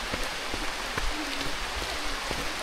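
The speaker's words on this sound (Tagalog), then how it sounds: "Sa puntong ito ay sobrang lakas na ng patak ng ulan." Heavy rain pours steadily on the Aw-asen falls trail, a dense, loud hiss of drops spattering on leaves and ground throughout, with scattered sharper drips standing out.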